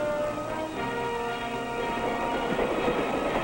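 A 1950s mainline passenger train rolls steadily along the rails with a constant, loud mechanical rumble and rattling wheels, heard alone without talk.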